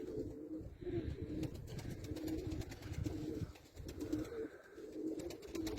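Several pigeons coo in low, repeated throaty phrases close by, with a soft rustling background throughout and no talk.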